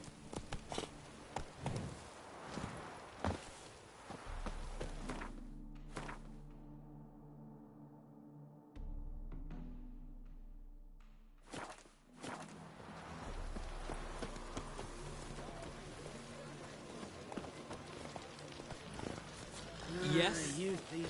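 A horse gallops in The Witcher with rhythmic hoofbeats that come and go, quieter in the middle, under game music and speaking voices.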